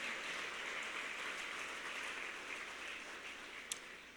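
A church congregation applauds steadily at a distance, a soft, even wash of clapping that holds for the whole stretch with one brief sharper clap near the end.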